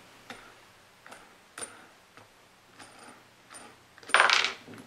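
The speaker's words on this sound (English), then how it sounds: "Take the wing nut off." A wing nut is worked loose and lifted off a bolt on a speaker-mounting truss setup: sparse, light metallic ticks and clicks spaced over several seconds, ending in a brighter, louder clink of metal parts near the end.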